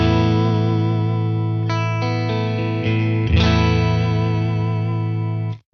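Electric guitar clean tone through a Tone King Imperial preamp pedal on channel 1, sustained chords with a few changes and a final strum, ringing close and full with a slight shimmer, no talking.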